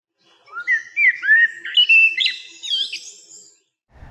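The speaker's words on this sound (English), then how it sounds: "the blackbird has the famous, quite beautiful, melodious call" A common blackbird sings a clear, melodious phrase of varied whistled notes rising and falling over about three seconds, close and distinct against a quiet background.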